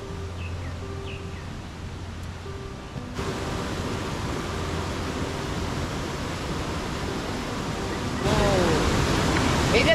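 A river in the Sahyadri hills flowing toward the Milkybar waterfall makes a steady broadband rush that swells louder after about three seconds and grows again near the end, with faint birdsong early on.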